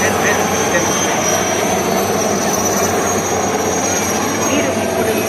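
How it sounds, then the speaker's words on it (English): Several helicopters, Chetak and ALH types, approach over the beach during a naval search and rescue demonstration, a loud continuous rotor and engine roar that stays steady throughout, with a crowd and public address talk mixed beneath. "you can now see CLS and 6 helicopters approaching the crash"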